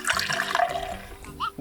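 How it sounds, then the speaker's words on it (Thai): Water flows strongly along a sandy beach, a rushing, splashing gush up close, with excited voices talking and exclaiming over it. "น้ำไหลแรงมาก"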